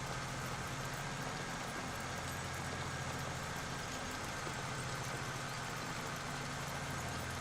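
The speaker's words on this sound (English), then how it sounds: "I also like this tractor that I'm pulling it with." A tractor engine runs steadily in a farming video game, a continuous low droning hum with a faint mechanical rattle, holding at constant loudness throughout with no talk.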